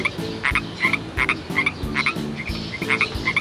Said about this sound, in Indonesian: memang itu katak teman-teman